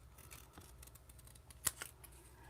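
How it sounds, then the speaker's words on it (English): Scissors cutting material at an angle for a craft class, a few soft, faint snips with one sharper crisp cut near the end, heard close up in a quiet room. "we're going to cut this at an angle."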